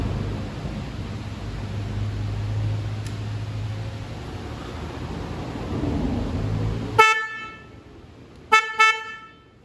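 An arrow horn fitted to a Suzuki Raider 150fi motorcycle gives a few short, loud electronic honks near the end, after a stretch of steady background noise.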